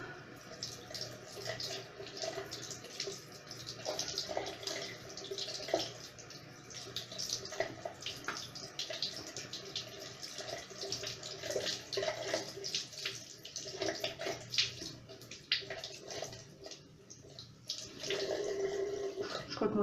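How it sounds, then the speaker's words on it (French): Running water from a tap splashes steadily while a sponge is rinsed and pressed over a face during an evening makeup-removal routine, with continuous close trickling and dripping throughout and no talking. "Ensuite, je rince avec une éponge."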